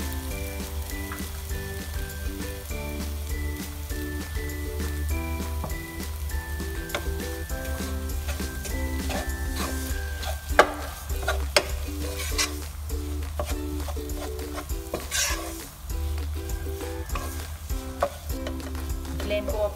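Pistachios and almonds stirred into makhandi halwa frying in a pan, giving a steady sizzle with scraping stir strokes and a low continuous hum, with a voice talking over it at times.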